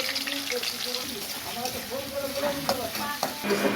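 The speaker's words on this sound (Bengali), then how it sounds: "ভালো করে ভেজে নেওয়া হলো" Steady sizzling of ginger, chilli and tomato frying in hot oil, with a few scrapes and taps of a spoon stirring it near the microphone, under faint background voices.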